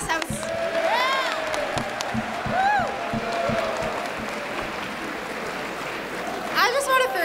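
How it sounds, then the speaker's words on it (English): An audience at a school presentation breaks into applause with whoops and cheering voices rising over the clapping, moderately loud, with louder cheers toward the end. "Can we give him a round of applause?"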